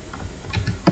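Light keyboard taps sound as someone types a search into Chrome to download VirtualBox, a few soft clicks ending with one sharper keystroke over a low steady background hum, close and without speech.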